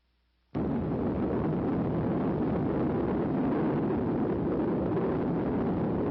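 Operation Sandstone nuclear test detonation: after a moment of near silence a sudden, massive roar bursts in and holds as a dense, steady rumbling wall of noise for several seconds.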